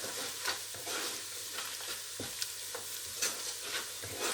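Keema with turmeric, red chili and salt fries in a pan, a close busy sizzle broken by repeated scraping stirs every half second or so.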